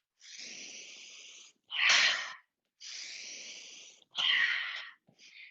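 Two alternating cycles of a long hissing breath, then a forceful, breathy exhale, from yoga Kriya breathing, close and clear, with a short faint puff at the end and no talking.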